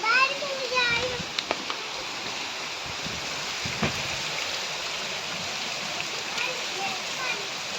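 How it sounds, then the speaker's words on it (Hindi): Heavy monsoon rain pours down in a steady, dense hiss that fills the whole stretch, with a voice briefly audible near the start. "बहुत ज़्यादा तेज़ बारिश हो रही है"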